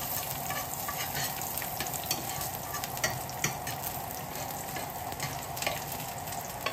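Garlic fries in a little oil in a pan, a steady close sizzle with crackling pops and occasional stirring scrapes, continuous for several seconds with no voices.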